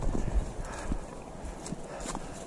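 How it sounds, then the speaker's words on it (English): A horse walks outdoors on a ranch preserve, its hooves clip-clopping in an irregular, moderately close rhythm over low background noise. "that horse doesn't look like it wants to move"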